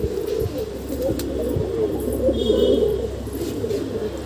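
Domestic pigeons coo steadily in low, throaty murmurs, close by and continuous, with a faint higher chirp drifting in the background and no talking.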